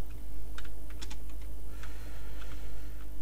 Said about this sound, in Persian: چقدر من امروز دارم غلط تایپ میکنم